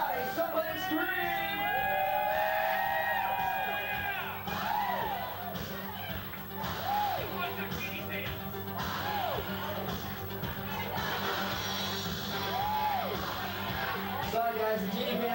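Crowd of people screaming, whooping and cheering in a hotel room during a Monday Night Football gathering, loud and sustained with rising yells and shouts across the whole stretch.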